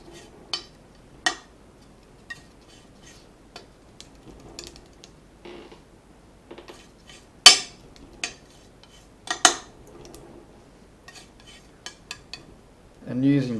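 Oil paint is worked on a palette while mixing a sky colour. Sparse, quiet taps, clinks and scrapes come at irregular intervals over near silence, with a couple of sharper knocks toward the middle.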